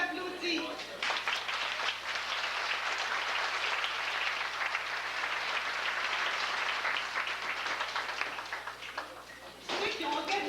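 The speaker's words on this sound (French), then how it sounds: "On applaudit." Sustained audience applause inside a church during a parish family celebration, a dense, even wash of many hands clapping at moderate distance for several seconds before tapering off, with a faint steady hum underneath.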